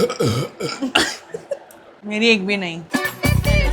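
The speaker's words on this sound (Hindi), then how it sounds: "जिसने ज्यादा डकार मारी वो हार गया" Burps from a burp challenge after gulping a cold drink, with loud voiced belches rising among chatty Hindi talk and laughter, a long drawn-out belch in the middle and a harsh one near the end.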